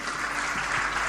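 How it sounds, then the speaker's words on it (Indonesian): A church congregation claps in a brief, steady burst of dense applause filling a large hall, with no pauses. "Angkat tangan, tepuk tangan,"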